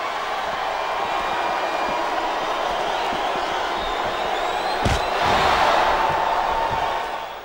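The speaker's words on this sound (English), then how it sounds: "Didn't it give you a rush to hear the fans cheering and chanting for you?" Steady, loud roar of a virtual wrestling arena crowd cheering in WWE SmackDown vs Raw 2008, with one sharp thud partway through and the noise swelling briefly near the end.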